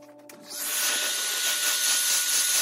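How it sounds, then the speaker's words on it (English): A hair dryer switches on after a short pause and blows in a steady, loud whooshing hiss while drying acrylic paint, with no voices. "just decided I was going to get the hair dryer and try to dry it"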